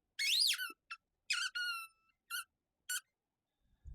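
Shrill squeaking, probably from a chest freezer lid or a filing cabinet, comes in several short high-pitched bursts with pauses between, close and distinct in an otherwise quiet space.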